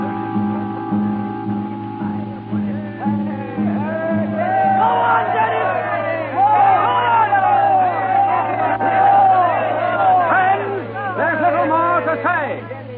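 Large outdoor crowd gathered at a meeting in a town square in Ireland, a dense murmur of shouts, cheers and excited chatter that swells steadily and stays loud throughout, with a low hum beneath.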